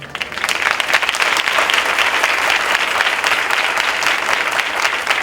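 A convention crowd at a church worship gathering breaks into loud, dense applause that holds steady across the whole stretch, many hands clapping close and sustained with no voices over it.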